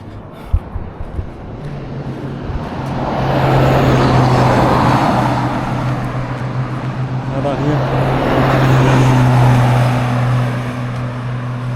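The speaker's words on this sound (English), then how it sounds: "I see some tourist vehicles coming down here." Tourist vehicles drive past on a village road, the engine and tyre noise swelling twice as each one approaches and passes, then fading over a low rumble.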